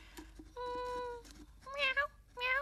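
A voice imitates a cat meowing during a children's craft activity with a paper cat, giving three drawn-out, tonal meows in quick succession with short pauses between them, close and clear.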